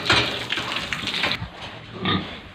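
Large farm pigs grunt and snort loudly and close by while being washed with soap, with a few overlapping grunts and a brief wet rustle.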